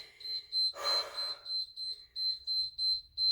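A high electronic interval timer during a HIIT workout beeps in a rapid repeating pattern of short tones, briefly interrupted by a burst of noise near the start.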